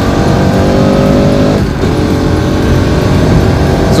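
Bajaj Pulsar RS200 motorcycle riding fast, a loud, steady engine roar with constant wind rush throughout, close and continuous with a brief dip midway.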